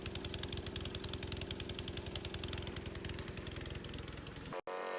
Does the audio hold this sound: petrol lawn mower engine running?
yes